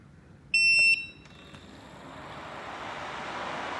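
IETS GT626 laptop cooling pad switched on up close: a short electronic beep, then the fans spin up into a steady airy whoosh that gradually swells louder.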